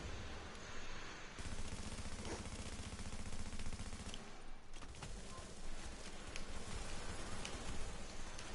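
Sustained enemy gunfire in The Division, a dense rattle of rapid automatic shots from several weapons at once, loud and continuous with a brief lull midway before the firing resumes.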